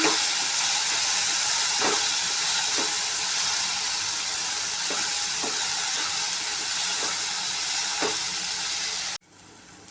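Masala spices, including coriander and cumin powder, sauté in a pan for aloo dum gravy, giving a steady, even hiss of sizzling oil with a few soft scraping knocks, before it cuts off abruptly near the end.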